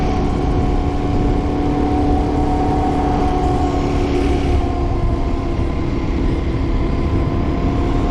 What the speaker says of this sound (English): I'm doing about 45 miles an hour, which is a really comfortable spot for this little bike